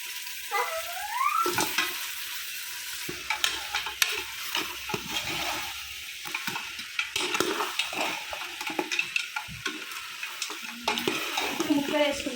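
Pieces of goat leg for Telangana-style paya curry drop into a pot and are stirred, and a bubbling sizzle runs under repeated scraping and clanking of a spoon against the vessel.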